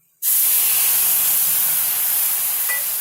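Masala paste hitting hot oil in a pan while cooking bitter gourd (korola), a sudden loud, steady sizzling hiss that starts abruptly and holds at an even, close level throughout.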